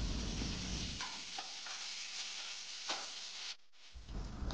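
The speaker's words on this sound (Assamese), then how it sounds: "ভাঙি দিয়াৰ পাছত অলপ ভাজি অলপ মছলাটো ৰেডি কৰিম" Boiled potatoes fry in a pan for a dosa masala, with a soft steady sizzle and scraping stirring strokes, close and fairly quiet, pausing briefly near the end.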